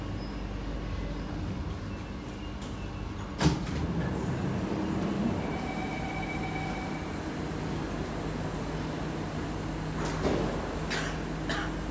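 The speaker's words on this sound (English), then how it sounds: "doors are closing." Doors on an SMRT East West Line Kawasaki C151B train near Kembangan closing, a steady rumble of the train interior with a brief clunk near the middle and faint chimes, no talking.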